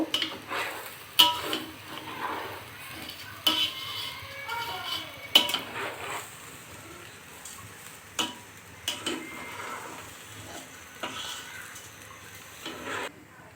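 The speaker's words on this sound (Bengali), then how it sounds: "বিরিয়ানির মশলাটা অ্যাড করার পরে আমি আরও 2 মিনিট নাড়ব।" Biryani masala in a mutton handi biryani pot is stirred with a utensil, giving intermittent scraping and clinking knocks against the pot over a soft background sizzle, with no voices.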